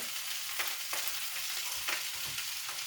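An egg sizzles in a hot pan alongside leftover rice and sausage, a steady hiss with a few sharper crackles and stirring scrapes at close range, no voices.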